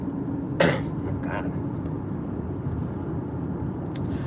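A short cough rings out, followed by a second fainter one, over a low steady rumble of background noise.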